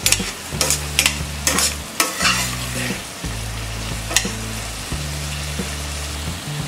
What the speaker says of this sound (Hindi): इसे कवर कर देंगे और लो फ्लेम में इसे फ्राई करेंगे